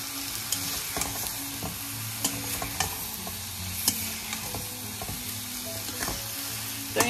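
Meat salted beforehand fries in a pan with whole garlic, green chili and ginger-garlic paste, giving a steady close sizzle punctuated by repeated scraping stir strokes and small clinks, with no voices.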